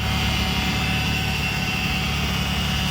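A Peterbilt truck's diesel engine idles after a cold start: a steady, unbroken low rumble with a constant mechanical drone, close by and with no voices.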